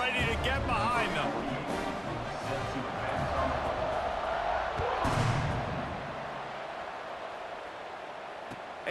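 A stadium crowd roars steadily in EA Sports College Football 26 before a kickoff, a broad sustained wash of noise under a commentator's voice.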